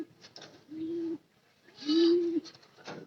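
Pigeons in a loft coo nearby, two drawn-out throaty calls with soft clicks and rustles between them, quiet and clear with no talk.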